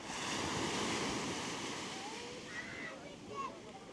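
Waves breaking as they roll in toward the shore on a Danish coast, a steady broad wash of surf close by with wind noise buffeting the microphone throughout.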